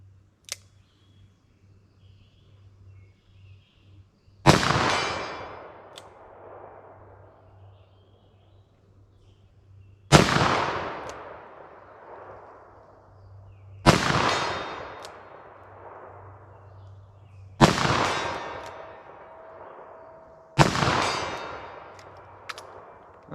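Five heavy .44 Magnum revolver shots with light Sierra Sports Master handloads ring out a few seconds apart, each a sharp loud crack with a long ringing decay, at an outdoor range.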